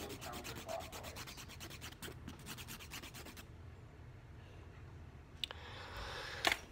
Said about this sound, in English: Now I'm going to take my nail file that files the most and go and shape this nail all the way.